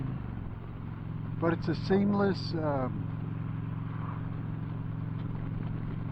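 An Indian V-twin motorcycle idling with its rear cylinder deactivated, a steady low engine hum running throughout while someone talks briefly over it.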